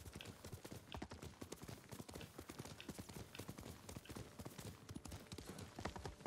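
A horse gallops in Ghost of Tsushima, its hooves drumming in a fast, steady, unbroken rhythm that stays quiet and even throughout.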